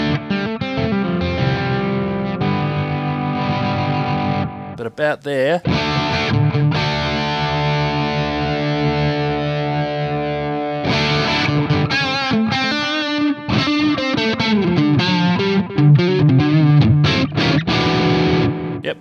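Electric guitar played through a Sonicake Black Hammer multi-effects unit set for heavy metal distortion, chugging riffs and sustained distorted chords ringing loud and continuous with brief pauses, a voice briefly speaking.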